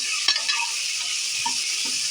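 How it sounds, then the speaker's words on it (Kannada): Onions fried with ginger garlic paste and masala being stirred in a pan for egg biryani, a steady close sizzle with soft scraping spoon strokes and a few light clinks, no voices. "ಇದ್ರ ಜೊತೆ ಚೆನ್ನಾಗಿ ಮಿಕ್ಸ್ ಮಾಡ್ಕೋತಾ ಇದ್ದೀನಿ."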